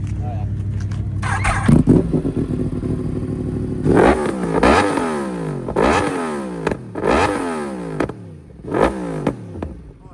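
A motorcycle with its exhaust baffle removed, revved repeatedly in quick bursts, each rising throttle blip falling back to a rough idle, loud and close, with people talking in the background.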